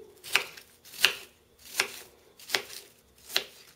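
A knife chops an onion on a cutting board in five evenly spaced, crisp thuds, close and clear against near silence.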